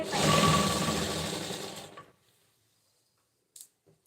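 A sewing machine stitching a pink cotton blouse runs in a steady, close whirring burst for about two seconds, then stops; silence follows, with a couple of faint small clicks near the end.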